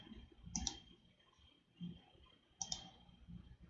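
Two brief mouse clicks during a Java programming lesson, each a sharp double click, soft and close, heard alone against faint room hiss.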